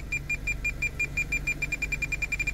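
An aftermarket front parking sensor with a display, fitted to a Toyota Corolla, beeps in a fast, even series of short tones as the car approaches an obstacle, faint over a low background rumble.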